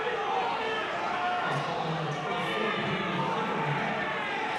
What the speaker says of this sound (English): Crowd uproar.